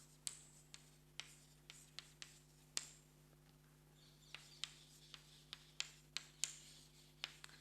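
Chalk or a marker taps and scrapes across a board in a lecture hall during a geometry lecture, giving faint, rhythmic strokes over a steady low hum, with no talking.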